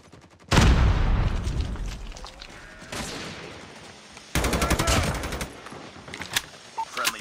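A frag grenade explosion and gunfire in Call of Duty: a loud booming blast opens with a long rumbling tail, followed by a second impact and a dense rattling burst of rapid gunfire, then scattered fainter shots.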